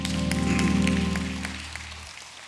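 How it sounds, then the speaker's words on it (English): A church congregation clapping in praise at a Wednesday night Bible study, a scattered round of hand claps over a sustained organ chord that fades as the clapping thins out. "give God another hand clap of praise"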